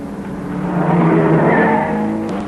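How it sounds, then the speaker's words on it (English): A 1961 Ferrari race car engine roars loudly and steadily at the 24 Hours of Le Mans, its pitch climbing slightly as it passes close by, with a harsh, buzzing mechanical tone throughout. "The Rodriguez Ferrari number 17 is a private entry from the North American racing team"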